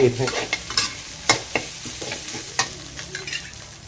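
Curry paste is stir-fried in a pan with a little oil for spicy pork, making a soft sizzle punctuated by irregular scraping and clacking strokes of a spatula against the pan, close and alone.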